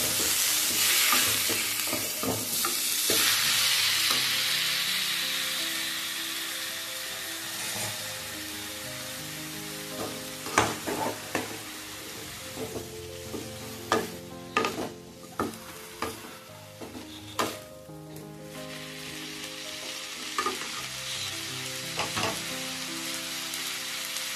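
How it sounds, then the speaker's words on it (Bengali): Chopped raw green tomatoes sizzle and fry in a pan while being stirred; a broad hiss opens the clip and fades into scattered sharp scrapes and clicks from the spatula, with steady tonal music underneath. "কাঁচা টমেটো রয়েছে, এটা করে ওর সঙ্গে ভালো করে নাড়াচাড়া করে ভেজে নেব"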